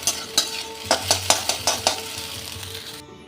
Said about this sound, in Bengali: এবার এই ডিমটাকে একটু ভুজিয়া করে নেব।